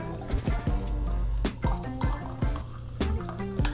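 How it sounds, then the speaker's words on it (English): Champagne and orange juice pour into a glass as a mimosa, a close gurgling, bubbling stream with rising glugging tones and steady fizz, heard alone. "I'm gonna go ahead and pour me up a cute little glass"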